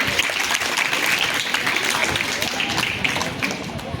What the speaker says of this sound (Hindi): तो जोरदार ताली से उनका स्वागत कीजिए